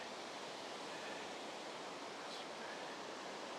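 Rutledge Falls pours with a steady, even roar from a rocky hiking path below the cascade, faint and unbroken, with no voices.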